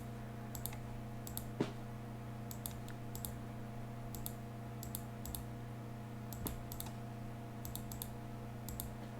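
Computer mouse clicks while playing Guild Wars 2, a scattered run of small crisp clicks in quick clusters over a steady electronic hum, fairly faint and close.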